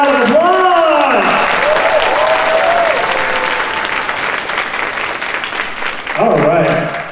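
Applause from an audience at a cat convention's closing ceremony fills the room, loud and sustained for several seconds, with an amplified voice speaking over it at the start and again near the end.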